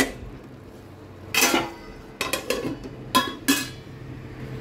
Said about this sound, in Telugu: చూడండి చక్కగా రెడీ అవుతుంది ఉప్మా. మూత పెడదాం.